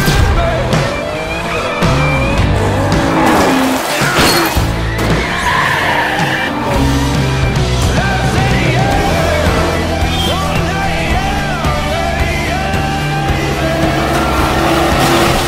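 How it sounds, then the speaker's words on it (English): A race car swerves with loud, sustained tire squeal and skidding over a roaring engine, with several screeching passes blending into continuous motor noise, close and intense. "Our champion swerves around it brilliantly."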